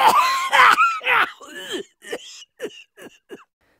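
A person coughs and clears their throat in a fit of harsh bursts that start loud and close, then taper into shorter, weaker hacks spaced apart.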